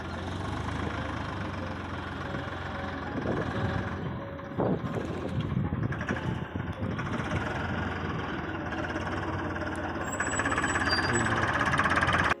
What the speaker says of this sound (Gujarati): આગળ એક વ્હીલે વળી જાય ટ્રેક્ટર